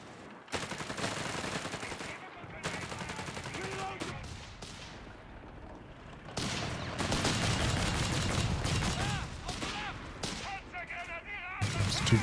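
Company of Heroes 3 battle in a 2v2 match, with a 2-pounder anti-tank gun firing amid sharp gunshots and machine-gun bursts. Shots come in clustered volleys, and a commentator talks over the fighting.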